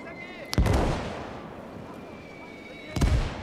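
Anti-tank and anti-aircraft guns in the Call to Arms: Gates of Hell war game fire two loud, sharp booms about two and a half seconds apart, each followed by a long echoing rumble that fades out.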